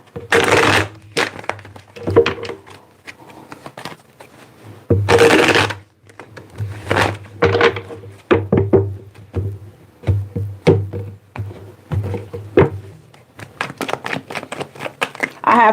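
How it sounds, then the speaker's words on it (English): Tarot cards are shuffled in repeated bursts of riffling and rubbing, some loud and close, with a low hum running underneath and short pauses between shuffles. "Let me get 2 more shuffles, please."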